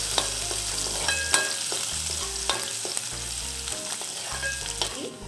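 Minced garlic and ginger fry in hot oil for a restaurant-style veg Manchurian, a steady close sizzle broken by regular sharp taps and scrapes of a spoon stirring the pan, with no talking.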